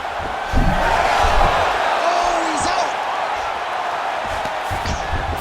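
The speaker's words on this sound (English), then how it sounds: "the crowd pops in appreciation as the fighters work their way back to the feet" Arena crowd noise in a PS5 UFC fight, a steady loud roar of cheering with a swell of applause under a commentator's voice.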